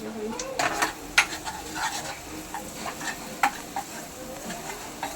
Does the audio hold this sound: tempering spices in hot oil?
yes